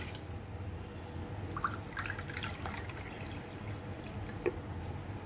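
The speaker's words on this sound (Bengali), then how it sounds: "কড়াই বসিয়ে এই কাপটা মাপে আমি চাশনি বানানোর জন্য জল দেব।" Measured cups of water are poured into a pan set on a gas stove to make sugar syrup for gulab jamun. The trickling and dripping is soft and close, with a few brief splashes.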